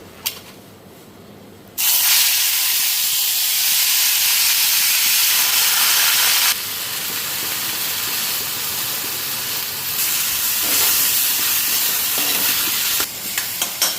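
Leafy greens hit hot oil in a Bengali home kitchen, bursting into a loud, continuous sizzle after a quiet start, with the hissing dipping slightly midway and then carrying on steadily.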